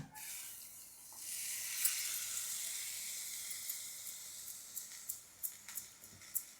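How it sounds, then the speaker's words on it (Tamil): Chana dal hits a hot pan and gives a faint, airy sizzle that hisses steadily, with small crackling pops growing more frequent toward the end. "இப்போ வந்து நம்ம கடலைப்பருப்பு அதில் சேர்த்துடலாம்"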